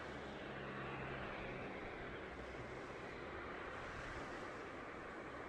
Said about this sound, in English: we're just going to watch some planes go in some very fast motion here